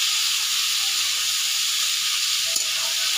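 Cut potatoes and chillies sizzle in a hot pan, a steady bright hiss with a faint scrape of a spatula stirring near the end, and no voices.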